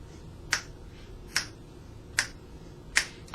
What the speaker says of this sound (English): It's a little finger snap rap.